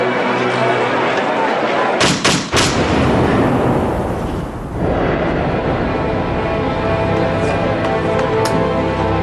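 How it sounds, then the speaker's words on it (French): Several sharp gunshots, the three shots fired at Israeli Prime Minister Yitzhak Rabin as he left the rally podium, crack out in a tight burst over loud crowd noise and voices, followed by continued commotion. "Un extrémiste juif lui tire 3 balles dans le dos."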